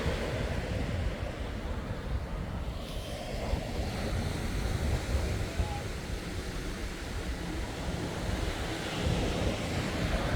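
Ocean waves crashing onto the shore below Montauk lighthouse, a continuous loud roar of surf with heavy wind buffeting the microphone, broad and unbroken throughout.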